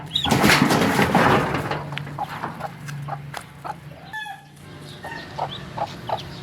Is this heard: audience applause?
no